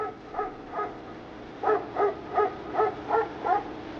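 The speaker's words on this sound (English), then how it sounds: "I heard Sandy's barks fade away into the distance" A dog named Sandy barks repeatedly at an even rhythm, about eight muffled barks in a row, distant and fairly faint over a low background hiss.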